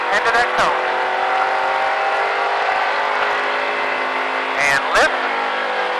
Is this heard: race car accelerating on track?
yes